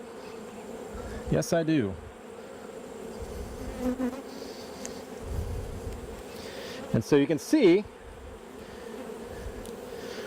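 Honeybees buzz steadily around an opened brood box frame that is full of honey. The close, continuous hum swells as bees pass near, while a person talks over it at intervals.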